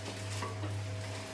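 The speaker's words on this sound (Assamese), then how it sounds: "এনেদৰে এতিয়া মই আমলৰিৰ টোপ ভাজি আছোঁ।" Red ant eggs dry-frying in a pan give a faint, steady low sizzle with a few soft stirring scrapes over a constant hum, lasting only a moment.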